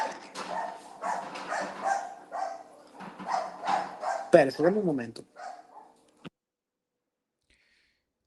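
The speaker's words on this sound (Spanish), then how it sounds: "Es que estoy escuchando más al perro que a ti." A dog barks several times in short yapping bursts, close and fairly loud, overlapping with a person talking in Spanish before the sound cuts off into silence.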